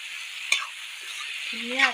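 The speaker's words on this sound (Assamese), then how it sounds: "মোৰ মছলাৰ লগত কঠালটো ভাজা হৈ গ'ল" Jackfruit frying with spices in a pan gives a steady hiss of sizzling oil, with one sharp clink of a stirring utensil and a brief voice near the end.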